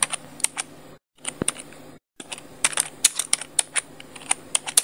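Quick bursts of clicky keystrokes on a computer keyboard, near and crisp, typing a short phrase with two brief silent gaps before the tapping resumes in an irregular rhythm.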